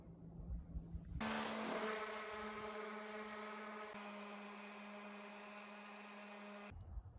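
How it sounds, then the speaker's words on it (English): A power sander works metal down to bare metal during an arcade machine repair, a loud sustained whine with steady tonal bands that starts abruptly, holds for several seconds, then cuts off. "Now we do some sanding."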